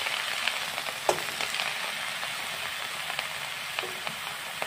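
Mixed vegetables frying in spiced oil for a curry, a steady close sizzle with occasional light clicks and scrapes of stirring, no voices.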